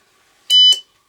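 A Ghost Radar paranormal detector gives a single short, loud electronic beep with a sharp tonal pitch, clear against near silence.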